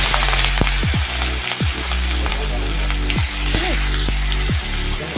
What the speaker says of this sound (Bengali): এই যে কালো জিরে ফোড়ন দিয়ে দিলাম, আর দিলাম কাঁচা লঙ্কা চেরা আর টমেটো কুচি।